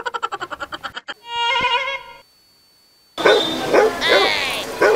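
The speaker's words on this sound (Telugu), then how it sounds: "నేను పెంచిన కుక్క నేను అన్ని చూసి అరుస్తుంది" A pet dog barks in a short burst of loud barks, following a run of rhythmic electronic beeps and tones and a brief silence.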